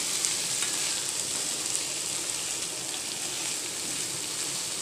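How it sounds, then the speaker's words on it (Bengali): Dried lotka fish (shutki) frying in a pan, giving a steady, close hiss and crackle of hot oil that runs unbroken and fairly loud throughout, with no voices. "এখন ভাজা ভাজা হচ্ছে।"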